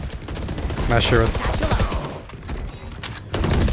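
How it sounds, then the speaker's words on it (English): Gunfight gunfire in the video game Valorant, with a dense burst of shots and action effects through the first half, then sporadic sounds, all under excited commentary. "Well, looks like we're gonna see a gunfight right now."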